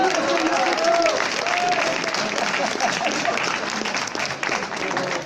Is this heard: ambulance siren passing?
no